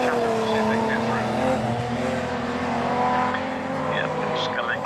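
Healey race cars circuit racing at Castle Combe, engines droning steadily at a distance with occasional tire noise, under continuous commentary.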